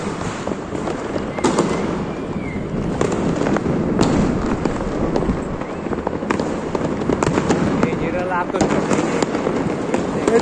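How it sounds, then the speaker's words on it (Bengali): New Year fireworks bursting outdoors, including fountain-type fireworks, with repeated sharp cracks and pops at irregular intervals under a continuous crackling hiss, while people talk throughout. "এই যে ঝর্ণা আতশবাজি"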